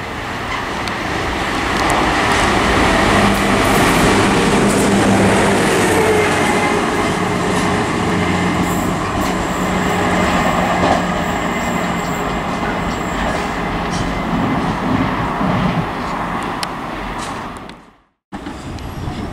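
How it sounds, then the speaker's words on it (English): A Network Rail tamper train rumbles loudly through Sevenoaks station, a sustained close roar of wheels and engine that fades toward the end and cuts out briefly. "it seems like we have a Network Rail Tampa heading through Sevenoaks"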